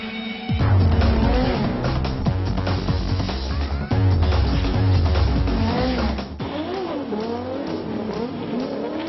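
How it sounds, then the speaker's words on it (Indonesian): A car drifts with loud, sustained tire squeal and skidding over a revving engine, the screech rising and falling in long sweeps before easing off near the end. "saya baru ngerasain sensasi bermain drift."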